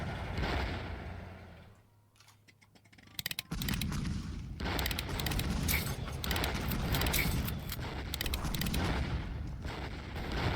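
Autocannons fire in the Kards video game as a dense, loud stream of rapid bursts that briefly thins out into a lull before the clatter picks up again and carries on steadily to the end.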